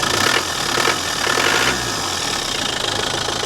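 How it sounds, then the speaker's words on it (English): Diesel engine of a Land Rover Defender 90 TDI, close and loud, with a clattering idle that rises into a couple of short revs before settling back to a steady rumble. "Absolutely classic Land Rover sound."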